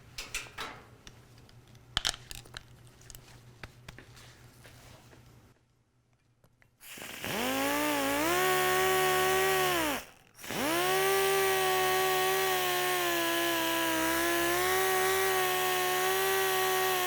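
A sander buffs car paint dry with 1500 grit on an interface pad. Its loud, steady motor whine starts after a few seconds of quiet shuffling, cuts out briefly, then resumes and runs on evenly.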